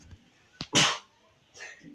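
One sharp, explosive sneeze close to the microphone, preceded by a short intake and followed by faint murmuring in a quiet room.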